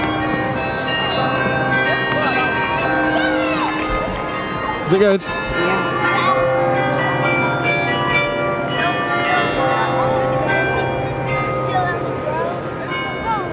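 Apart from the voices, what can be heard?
church bells ringing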